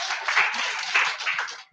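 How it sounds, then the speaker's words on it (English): A workshop audience breaks into applause, a dense, steady patter of many hands clapping together for just under two seconds before it tapers off, with no talk over it. "Can you give yourselves a round of applause?"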